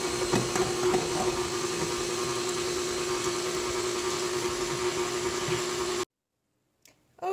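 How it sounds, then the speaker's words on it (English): A KitchenAid stand mixer with the flat beater attachment mixes flour, butter and salt, giving a steady, loud motor whir with a constant hum. It runs for about six seconds, then stops abruptly, leaving near silence. "use the leaf accessory of your KitchenAid and mix the flour, the butter, and the salt"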